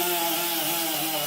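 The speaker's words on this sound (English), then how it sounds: "now I'm going to use the die grinder to clean up the rest of the marks that I made in the tool" A die grinder fitted with an 80-grit Scotch-Brite disc on a 2-inch backer polishes metal on a custom hot rod door handle, giving a loud, steady, continuous high whine with no pauses and no talking.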